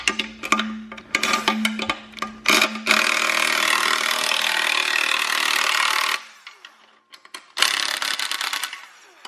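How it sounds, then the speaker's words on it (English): A small 1/4 inch Milwaukee power driver tightening bolts on custom rails and mount plates for a V10 jet boat, short whirring bursts with a longer sustained run, then pauses and another burst, close and fairly loud. "pretty gutless little 1/4 inch Milwaukee, and that prevents me from ever going too tight on them"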